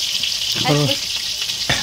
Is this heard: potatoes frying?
yes